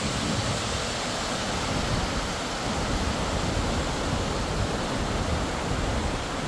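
A steady, powerful roar of rushing water fills the air without pause, a dense broadband wash like a large waterfall heard up close, at a small cascade near Montmorency Falls, Beauport, Québec.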